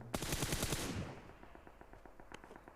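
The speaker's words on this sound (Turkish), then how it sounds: "George Bull evlerinde de silah sesleri var arkadaşlar" Automatic weapon fire in the mobile battle royale PUBG Mobile: a rapid, loud burst of machine-gun shots for about a second, then fainter distant shots trailing off, with no talk.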